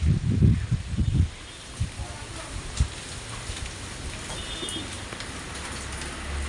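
Light rain falls on a home courtyard at night as a soft, steady patter. A brief stretch of nearby talking opens, then the rain continues quietly alone.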